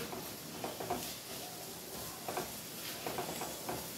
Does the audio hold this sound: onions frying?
yes